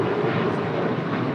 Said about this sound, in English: That was Alaska 1083 departing to Seattle on a 737-900 ER